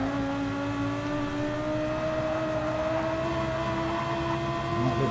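Race cars at the Nürburgring Nordschleife in a racing video game: a sustained whirring engine note that climbs slowly in pitch under acceleration, with other engines layered close behind, steady and fairly loud throughout.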